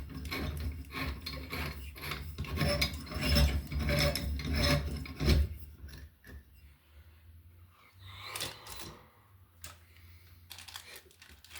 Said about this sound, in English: and you just screw this plastic ring on here.